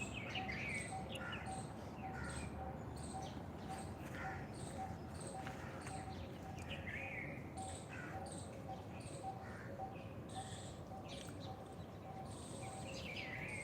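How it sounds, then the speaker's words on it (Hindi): Birds chirp and sing outdoors in repeated short, high calls over a steady background hiss, fairly faint, with a few soft knocking sounds underneath and no clear talking. "पक्षियों की मधुर आवाज़"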